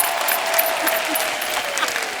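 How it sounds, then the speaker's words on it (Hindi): A studio audience at a Hindi comedy talk show celebrating Bollywood film makers gives a guest loud applause. Steady, dense clapping from the crowd fills the moment, with faint voices beneath. "जोरदार तालियां हो जाए"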